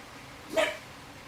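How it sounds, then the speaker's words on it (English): A dog gives a single short bark at moderate distance, standing alone against quiet room background with no talk. "you can't be barking at everybody"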